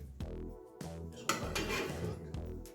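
Metal utensil stirring bograch in a cooking pot, giving a few scattered scrapes and clinks against the pot, close and moderately loud, with no voices.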